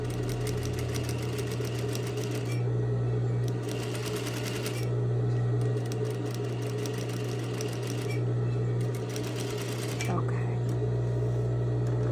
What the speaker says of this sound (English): All right, so I'm going to sew my next line.